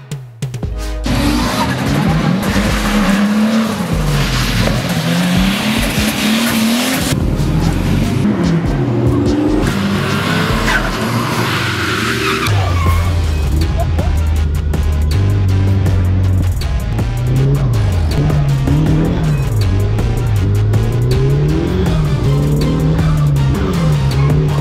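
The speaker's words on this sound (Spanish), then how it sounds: "estuvimos corriendo un montón de rato de noche, haciendo tándem con otros coches" Drift cars run in tandem on a track at night, engines roaring loud and continuous with rising and falling revs, tire squeal and bouncing limiter notes as the cars slide together.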